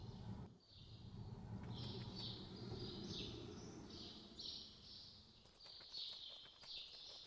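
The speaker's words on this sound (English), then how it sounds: "I hear birds." Birds chirp in repeated short bursts over a steady low rumble of ambient farm noise in Farming Simulator 25, on a Wisconsin farm map with many buildings and a pigeon loft.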